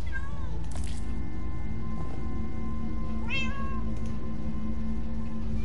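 A cat meows in Minecraft Story Mode Episode 6, several short rising calls spread across a few seconds, clear and close over a steady game soundtrack.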